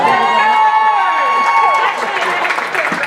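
A crowd applauding and cheering for a race car driver at the DT Make A Wish 100 at a speedway, a broad wash of distant crowd noise beneath a sustained tonal whine, with loud cheering swelling toward the end.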